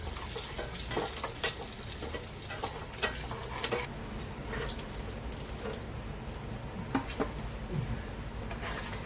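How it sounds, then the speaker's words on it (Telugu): Fish pieces frying in oil, giving a steady, dense sizzle with scattered sharper pops and crackles throughout, close and moderately loud with no talking. "ఇంకొక ముక్కలు కూడా ఇలాగే ఆయిల్లో వేసి ఫ్రై చేసేసుకొని"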